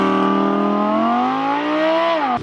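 An Audi R8 or Lamborghini Huracán with sport exhaust revs hard, a loud, close engine note holding steady and then climbing in pitch before cutting off abruptly.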